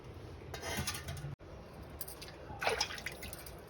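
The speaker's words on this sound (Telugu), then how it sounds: "ఇలాగా దీంట్లో ఉన్న డస్ట్ అంతా పోయే వరకు నీట్గా వాష్ చేసి పెట్టుకుందాం పక్కన" Fenugreek leaves being washed in salted water, close splashing and dripping with bursts of swishing water, gentle and intermittent, no talking.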